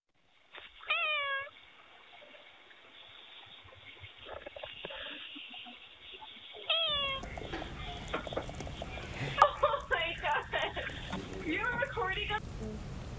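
A cat meows at a house door, caught by a Ring doorbell camera: a few faint, thin meows come in short bursts over a quiet outdoor hiss, with speech-like background noise picking up partway through.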